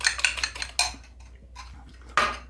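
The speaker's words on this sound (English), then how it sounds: "So I'm going to go ahead and just beat up my 2 eggs that I went ahead and cracked" Fork beating two eggs in a bowl for Texas sheet cake, a brisk run of close clinking strokes against the dish, a pause, then another burst of whisking.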